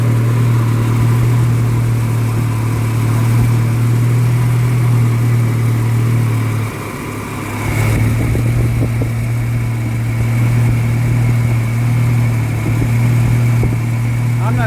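A Nissan D21 Hardbody four-cylinder engine idles steadily and close by, a constant low hum that dips briefly midway before settling back to an even idle.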